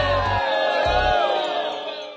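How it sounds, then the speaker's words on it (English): Crowd at a street demonstration against DOGE shouting and chanting together, loud rhythmic voiced bursts over a dense murmur of many people, with sharp accented calls near the start before the roar gradually fades. "The crowd grows louder, unified in their chants as more people arrive and the demonstration intensifies"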